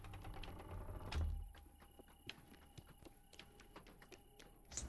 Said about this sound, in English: I'm hearing footsteps though.